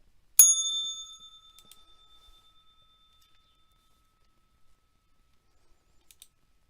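One bright bell strike rings out sharply to mark the stock market open, then decays slowly into silence, with a few faint clicks afterward.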